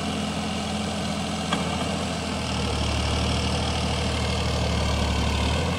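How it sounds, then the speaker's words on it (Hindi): A Massey Ferguson 9500 tractor pulls a seven-foot Land Force rotavator, its engine holding a steady, close droning rumble that deepens and grows heavier partway through, with no voices. "क्या शानदार आवाज़ ट्रैक्टर की"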